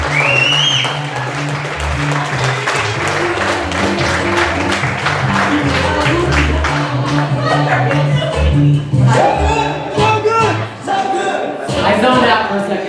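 Church congregation on its feet applauding, a dense, steady wash of clapping that carries on for the whole stretch, with music and voices mixed underneath.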